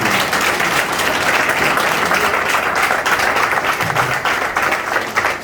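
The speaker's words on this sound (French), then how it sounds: "Acclame si tu veux bien." A church congregation at a special worship service bursts into sustained, dense applause, loud and close throughout, with faint voices mixed in.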